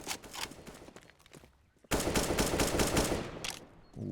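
Rapid rifle fire in Counter-Strike during an esports match, bursts of sharp shots, a brief lull, then a loud sustained volley of close gunfire with footsteps.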